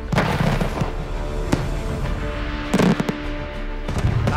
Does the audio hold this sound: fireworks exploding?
yes